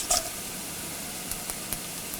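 Sliced onions sautéing with dried red chilies and curry leaves for coconut chutney, a soft steady sizzle with a sharp spatter at the start and a few light stirring taps that follow.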